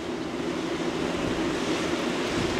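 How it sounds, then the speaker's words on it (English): River rapids rushing below the spillway of Broken Bow Lake in Oklahoma, heard from above as a steady, broad, hissing roar of churning water, continuous and fairly faint, with some wind on the microphone. "Look at that, rapids and everything down there."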